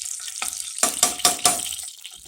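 Fresh garlic frying in hot lard, with a handful of sharp sizzling pops and crackles bursting in quick succession over a soft, hissing fry, close and fairly loud.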